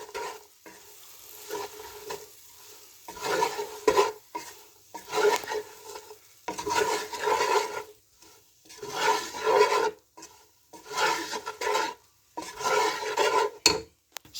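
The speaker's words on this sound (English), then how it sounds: "So we're going to add the pasta to that. As I say, this has been boiled. Okay, so give that a bit of a toss and a turn." Boiled pasta being tossed and turned with softened onions in a pan, heard as repeated bursts of scraping and stirring separated by short pauses, close and moderately loud.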